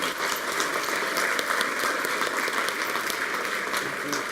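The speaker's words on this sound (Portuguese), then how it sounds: "salva de palmas para Jesus" A church congregation at a Brazilian service applauds, dense, sustained clapping filling the room for several seconds with a few voices mixed in.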